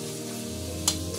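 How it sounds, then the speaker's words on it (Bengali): Spice paste of green and red chili being stirred and fried in a pan for potato curry, a soft steady sizzle with a faint scrape of the spoon, quiet and close, no voices. "এবার আমি ভালো করে মিশিয়ে নেবো, একদম মশলাটাকে ভালো করে একদম কষিয়ে নেব"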